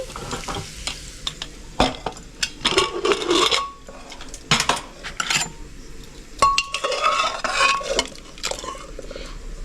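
A ladle stirs boiled moong dal cooked with bottle gourd, bitter gourd and drumsticks, making irregular close scrapes, clinks against the pot and wet sloshing bursts under a soft background sizzle.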